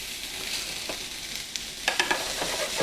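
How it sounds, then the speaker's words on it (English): Pork sausage sautéing in a pan, a soft continuous sizzle with a few sharper crackles and stirring scrapes near the end, close and alone without talk. "We're going to let this saute a bit."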